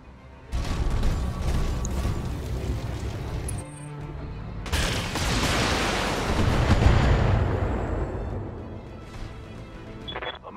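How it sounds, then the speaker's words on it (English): Heavy weapons fire in the BattleTech video game: loud, rumbling bursts of booming cannon and missile fire that swell and fade, with a deep roaring barrage building in the middle and trailing off. "I'm under heavy fire here."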